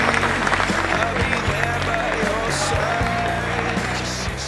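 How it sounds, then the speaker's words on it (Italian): Audience applause for a world champion at an Italian motorcycle show, a dense steady wash of clapping heard over a low music bed with some crowd noise. "A Tatiana Budetto, se gentilmente gli dedichiamo un applauso speciale."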